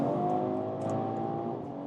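A BMW Alpina B3 GT accelerating hard, a steady close engine drone from inside the car at speed, sustained and fairly loud with no talking.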